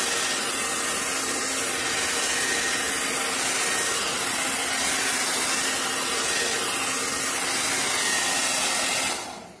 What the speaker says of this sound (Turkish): en sonda fön makinemi çalıştırıyorum